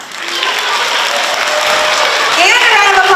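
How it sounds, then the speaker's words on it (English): Loud applause fills a school student-of-the-month assembly, building up at the start and holding steady while children's voices cheer and call out over it. "give yourselves a round of applause"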